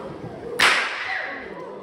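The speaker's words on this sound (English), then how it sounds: "When we crack the whip, it makes a very loud bang." A stockman's whip used for mustering sheep gives a single sharp, loud crack with a brief trailing ring at a wildlife park.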